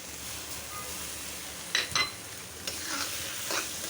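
Dried fish dropped into spices frying in a pan, for a curry with coconut milk, brings a steady sizzle with a few sharp clatters and scrapes of utensils against the pan. No voice is heard.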